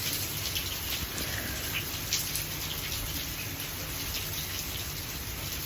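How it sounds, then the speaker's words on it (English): Steady rain patters down across a garden in a continuous even hiss with small drops close by and no voices. "It was a very peaceful rainy day."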